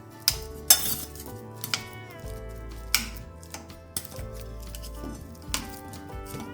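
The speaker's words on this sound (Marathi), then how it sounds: "आपण चमच्याने याला बारीक करून घेऊया।" A spoon mashes sliced bananas in a bowl, making repeated clinks and taps of metal on the dish in an uneven rhythm, close and clear over a low hum.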